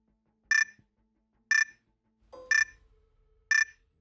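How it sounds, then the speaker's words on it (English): A timer alarm goes off as four sharp, bright electronic beeps spaced evenly about a second apart, clear against near silence with a faint low thump between them. "There goes the timer."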